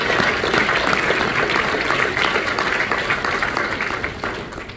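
A live audience applauds after a performance, a loud, continuous wash of many clapping hands that holds steady and then tapers slightly toward the end.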